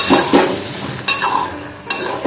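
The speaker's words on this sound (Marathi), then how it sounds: "तर जरासे परतवून घेते" Whole carrot pieces sautéed in a pan for carrot halwa, with a steady frying sizzle broken by a few sharp scraping stirs of a utensil against the pan, close and moderately loud with no talking.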